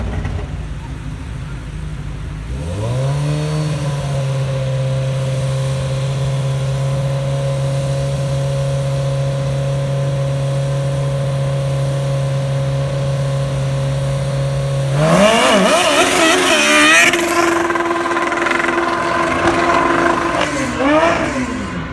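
Drag motorcycles, a Kawasaki ZRX 1100 and a Suzuki Hayabusa, race down an NHRA drag strip. An engine holds a long steady drone, then surges into loud rising revs near the end, with talking over it.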